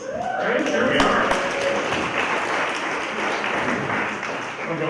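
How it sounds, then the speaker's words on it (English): Audience applause fills an auditorium at the 2023 Yentla Basin Rendezvous, a steady, dense wash of clapping from a crowd that holds for about five seconds, with some voices mixed in. "Let's give a little round of applause."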